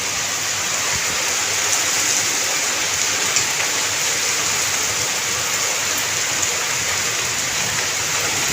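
Heavy storm rain pours down in a steady, dense hiss that stays loud and unbroken throughout, with no voices.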